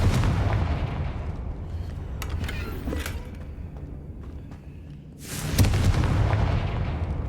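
A Confringo fire spell from the game Hogwarts Legacy, heard as loud booming blasts that fill the opening seconds, fade briefly, then burst again near the end.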